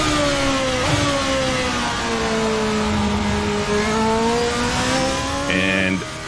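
Formula Beta race car engine in a Virtual Racing Cars racing video game: a loud, steady high-revving whine that dips and climbs gently through gear changes, with a brief squeal near the end.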